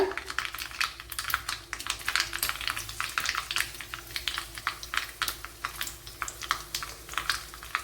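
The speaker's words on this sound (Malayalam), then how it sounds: "ഇവിടെ കടുക് പൊട്ടിയിട്ടുണ്ട് ഉലുവ മൂത്ത് വന്നിട്ടുണ്ട്" Mustard seeds and fenugreek crackle and pop in hot oil for a Kerala-style kalan, a dense run of sharp, rapid snaps over a low sizzle, close and fairly loud.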